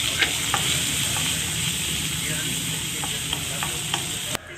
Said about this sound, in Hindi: यहाँ पे ऑयल गरम कर लिया है मैंने, हींग, जीरा और राई डाला है और इसको अच्छे से क्रैकल होने देंगे।